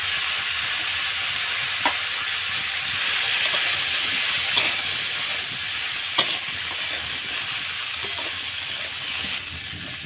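Cauliflower and potatoes fry together in a pan with a steady, close broadband sizzle, broken by a few sharp clicks and pops from stirring, and no voices.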